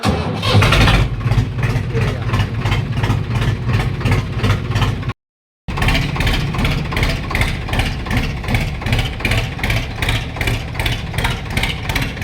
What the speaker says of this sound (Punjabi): ਕੱਢਦੇ ਆ ਟਰੈਕਟਰ ਨੂੰ ਆਪਾਂ ਬਾਹਰ ਠੀਕ ਹੈ ਜੀ ਲੋ ਜੀ ਕਰਦੇ ਆ ਸਟਾਰਟ